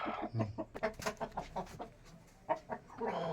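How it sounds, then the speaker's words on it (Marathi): A broody domestic hen, set to sit on her eggs, gives a run of short, rhythmic clucks close by, pausing briefly before a few sharper clucks at the end. "ही आहे ती कोंबडी जी खूड झालेली आहे बघा"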